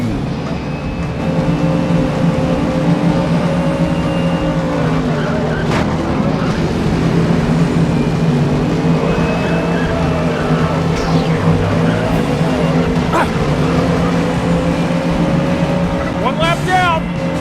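Race cars speed around a track in the Cars Race-O-Rama video game, a steady engine drone with tire squeals and skids, layered under game music and voices throughout.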